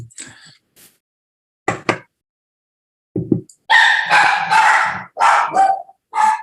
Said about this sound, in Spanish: Ahí está mi perro, las desventajas de la clase en casa.